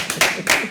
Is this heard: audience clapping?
yes